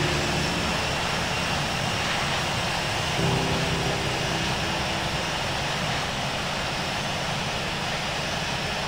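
Boeing 737 in the Infinite Flight simulator on its takeoff roll, a loud steady roar of jet engines with broad noise holding constant throughout, close and unbroken.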